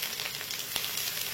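Grated ingredients fry in a pan while making chana rice with chickpeas and peanuts, a soft steady sizzle with a few faint scraping taps.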